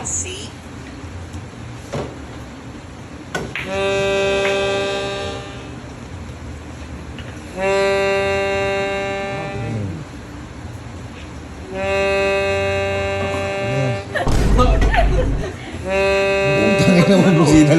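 A deep ship horn sounds in several long, sustained blasts separated by pauses, loud and tonal, with a thump and rustle between blasts.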